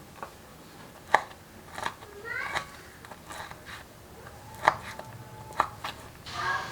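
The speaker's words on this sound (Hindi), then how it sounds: "खजूर में से गुठलियाँ निकाल लेंगे और इसको भी बारीक काट लेंगे" A knife chops pitted dates finely on a board in a home kitchen, with sparse, uneven taps at an irregular rhythm, faint against soft room noise.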